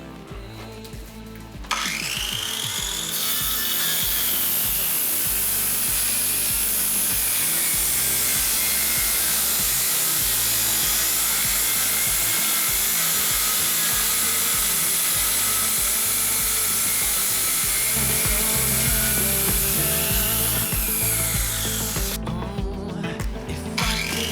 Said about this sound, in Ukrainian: давайте спробуємо, як працює циркулярна пила